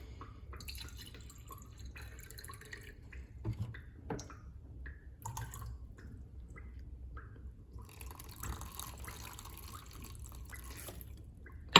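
Water trickles and runs down a sand hill model, steady soft flowing and dripping with a low hum beneath, a little louder toward the end, no talking.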